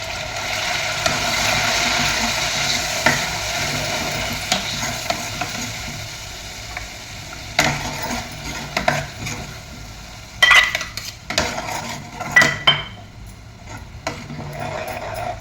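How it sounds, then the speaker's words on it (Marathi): Raw onion paste fries in oil while a spoon stirs it in the pan, with a soft steady sizzle followed by a series of scraping and clinking strokes near the end, and no talking. "आणि हा कांदा तर चांगला तेलामध्ये भाजून घ्यायचा गॅस बारीक करून बारीक भाजून घ्या"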